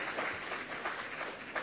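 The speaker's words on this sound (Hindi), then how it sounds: "जोरदार तालियां मैथिली के पिताजी के लिए" An audience applauds for Maithili Thakur's father during an interview, a brief, steady burst of crowd clapping that stays even throughout.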